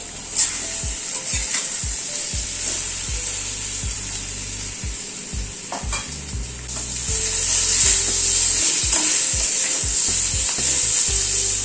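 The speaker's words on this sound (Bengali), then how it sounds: "আলু পটলটাকে মিনিট 2 সময় ধরে একটু ভেজে নিলাম।" Potato and pointed gourd frying with salt and turmeric in a pan: loud, close sizzling throughout, with rhythmic scraping stir strokes, and the hiss growing stronger in the second half.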